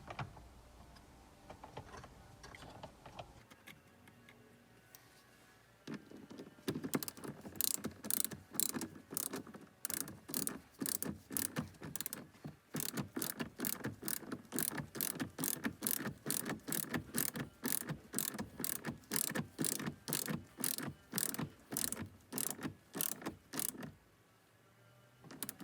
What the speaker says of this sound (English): So get a torque wrench and tighten it up to spec.